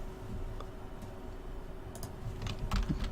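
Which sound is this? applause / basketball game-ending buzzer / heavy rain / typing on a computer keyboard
typing on a computer keyboard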